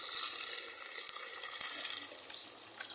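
Sardines added to sautéed garlic and onion fry in a pan with a bright, hissing sizzle that stays strong and constant, easing slightly near the end.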